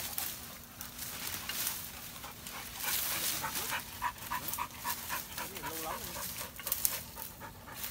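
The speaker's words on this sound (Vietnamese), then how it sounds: "Thôi cho con chó nó đánh hơi phát nữa sư phụ ạ." A hunting dog on a snake-hunting trip sniffs and pants up close in quick, uneven bursts, with faint whimpers and rustling around it.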